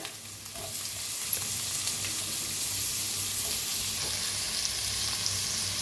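Onion and tomato frying in a pan for a spicy egg curry, a continuous close hiss of sizzling with occasional faint scrapes and taps of stirring.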